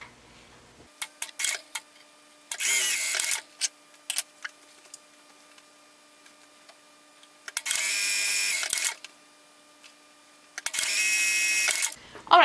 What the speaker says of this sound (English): We're gonna sew these at 5/8 of an inch right here